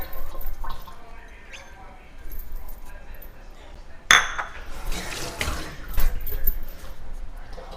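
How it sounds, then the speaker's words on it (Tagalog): Hot water poured out of a container in a home kitchen, a sudden gushing splash with clinks of dishware, preceded by quieter handling and followed by trickling, with a voice speaking at times. "Tapos itapon natin yung tubig."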